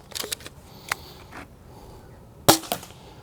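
A Nerf ballistic knife gun blade fires darts at around 180 FPS, giving sharp, loud snapping shots: a cluster of quick clicks early, a lone crack near one second, then a louder double shot near the end, with no talk.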